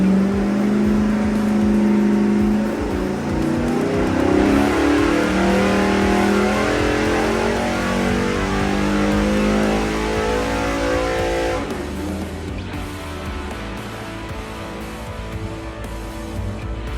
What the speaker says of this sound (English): It sounds very clean when you rev it.